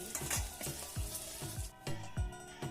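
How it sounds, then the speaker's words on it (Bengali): Chana dal fritters (bora) sizzle steadily in hot oil in a pan, with a continuous close frying hiss broken by repeated soft thuds and scrapes as the pieces are turned. "এক পিঠ লাল লাল করে ভাজা হয়ে গেছে অপর পিঠ উল্টে দিচ্ছি"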